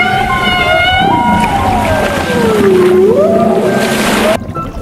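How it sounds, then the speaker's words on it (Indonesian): Whistling, sliding beluga whale calls rise and fall over a watery background, followed by a sudden drop in sound near the end. "Paus beluga adalah paus putih yang suka bersuara lucu seperti sedang bernyanyi di bawah laut."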